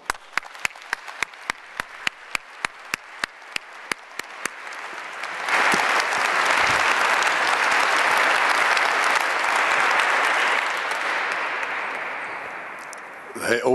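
Inside St Paul's Cathedral, a few sharp, evenly spaced claps are followed by a full audience breaking into sustained, reverberant applause that swells, holds, then fades as talk begins.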